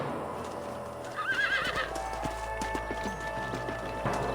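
Horses in the video game Red Dead Redemption as riders dismount: a clear whinny, then scattered hoof clops and shuffling over a steady game ambience, with no voices.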